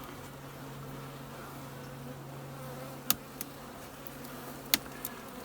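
A new bee colony working old comb in a long-dead hive gives off a steady, low insect drone, with a few sharp clicks and knocks near the end.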